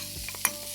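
Marinated garlic and almonds stir-fried in a hot pan with dried pollack shreds, giving a faint sizzle and a few soft scraping stirs, brief and quiet with no talk.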